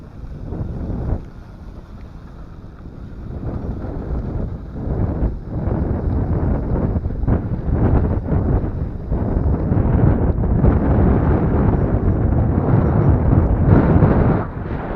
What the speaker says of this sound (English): That was windy.